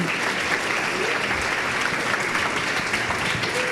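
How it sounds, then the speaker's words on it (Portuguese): A church congregation gives sustained, even applause during a worship service, a thick, continuous wash of clapping filling the room with no voices standing out. "dê um aplauso maravilhoso a esse Deus Todo-Poderoso"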